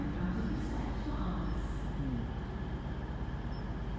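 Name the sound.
double Voyager train arriving at station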